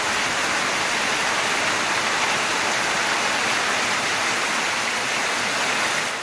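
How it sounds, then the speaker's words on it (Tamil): Steady, dense rain pours down in Thiruvaiyaru, Thanjavur district, a continuous broadband hiss at full strength with no gaps and no voices. "அரை மணி நேரம் பெய்த மழையால் தாழ்வான பகுதிகளில் மழை நீர் தேங்கியது"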